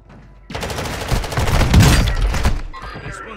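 Close, loud bursts of gunfire in the video game DMZ, a dense rattling fusillade that starts abruptly after a brief quiet lead-in and continues almost without pause before tailing off near the end.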